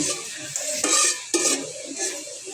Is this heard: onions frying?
yes